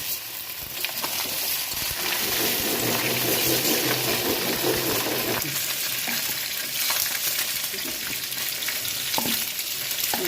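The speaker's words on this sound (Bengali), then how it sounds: "আলুটা ভাজা হয়ে গেছে, এবার বেগুনটা দিয়ে দিলাম।" Eggplant is tipped into a pan of fried potatoes and sizzles hard. The dense frying hiss carries scraping stir strokes and spatters, sustained and close throughout, with no voices.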